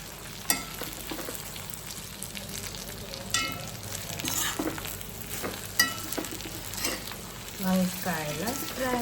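Brinjal pieces fry and sizzle steadily in an oil pan, with a continuous hiss broken by a few louder stirring scrapes and clicks close by, and no one talking.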